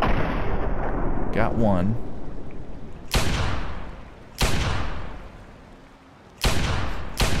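Loud gunshots from the video game Fallout 3 crack out in three sharp, separated blasts, each trailing off in a booming decay, with a brief spoken remark between them.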